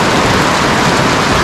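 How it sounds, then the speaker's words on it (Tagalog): Heavy rain pours down steadily in a loud, dense, unbroken hiss on a road in the Philippines, close and filling the whole moment, with no voices. "Ayan o, lakas po ng ulan."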